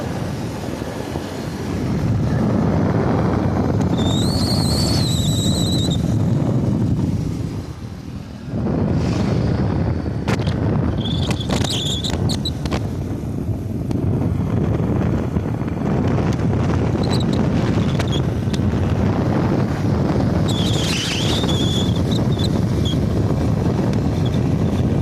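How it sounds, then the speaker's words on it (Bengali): Strong, cold wind on the coast at Bakkhali in stormy weather with lightning roars and buffets steadily against the microphone, dipping briefly before surging again, with faint high whines from passing vehicles. "ঠান্ডা হাওয়া লাগছে এবারে"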